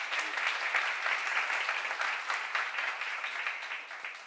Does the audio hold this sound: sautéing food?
no